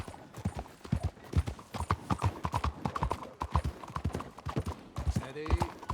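A horse's hooves clip-clopping in the video game Red Dead Redemption 2, a brisk, close, steady rhythm of hoofbeats with a short snort-like sound near the end.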